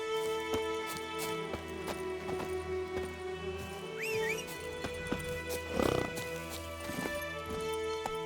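Roach, a horse in The Witcher game, trots along with steady hoofbeats while a short neigh rises briefly over a humming musical backdrop; no voices are heard.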